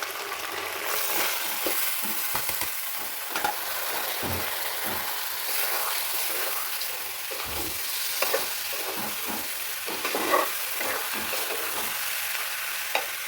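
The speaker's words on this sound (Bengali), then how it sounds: "পোলার চালটা আমি সুন্দর করে ভেজে নেব" Polao rice frying in a pan for chicken biryani, a continuous close sizzle broken by repeated scraping stirs and spoon knocks in an irregular rhythm, with no voices.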